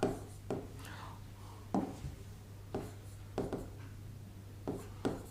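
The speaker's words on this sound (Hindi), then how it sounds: "दोस्तों अब मैं एक उदाहरण लिखने वाला हूँ और मैंने लिख दिया" Chalk or marker writing on a classroom board, several distinct scratchy strokes and taps spaced irregularly over a low steady hum, with no talking.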